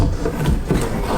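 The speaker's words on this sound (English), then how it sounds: "slide the shelf on, all good." A wooden floating shelf slides onto its wall mount with a steady, close scraping rub of wood over a brief stretch, loud and continuous.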